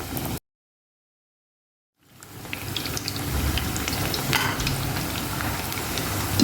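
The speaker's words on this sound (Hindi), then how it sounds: "ये देखिए पकोड़े हमारे फ्राई होना शुरू हो गए" Potato and spinach pakoras fry in a pan of hot oil, giving a steady close sizzle and crackle that starts after a brief silent gap and continues unbroken, with no talk.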